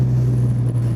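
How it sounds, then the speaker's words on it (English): An Alfa Romeo engine driven flat out, a loud, steady, low engine drone that fills a short one-second stretch with no voices over it. "I've got to rev it, I've got to go flat out."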